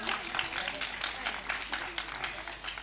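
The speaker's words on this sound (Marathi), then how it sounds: "त्यांच्यासाठी एकदा जोरदार टाळ्या होऊ द्या" An audience at a folk-art cultural programme in Karmala, Solapur claps in a dense, continuous burst of applause that stays fairly even throughout, with faint voices mixed in.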